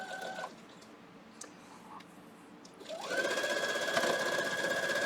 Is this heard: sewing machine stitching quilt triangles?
yes